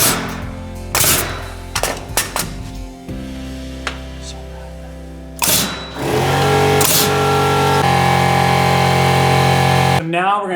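Nailing off window framing brings several sharp, loud nail-gun bangs, some in quick pairs and others spaced apart, over a steady mechanical hum.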